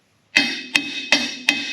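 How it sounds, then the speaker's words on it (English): Four sharp metallic hammer strikes ring out at a steady pace during disc mower and bush hog maintenance, each bright clang decaying briefly before the next, close and loud. "A lot of hammering."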